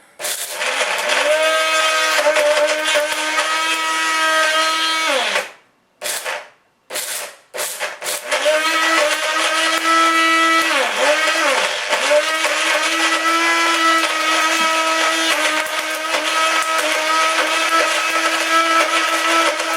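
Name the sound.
blender blending water and Fruit by the Foot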